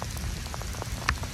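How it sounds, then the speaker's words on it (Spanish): Rain falling outdoors on a walk, dense pattering drops on surfaces close around, steady and unbroken with occasional louder individual splashes. "me vine a caminar y me tomó la lluvia"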